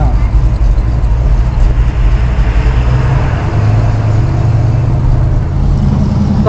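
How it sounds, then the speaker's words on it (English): A 1964 Cadillac drives along with a loud, continuous road rumble and a loose rattle from its wheel center caps, heard up close inside the car. "I think it's like the center caps on the wheels just flopping around or something."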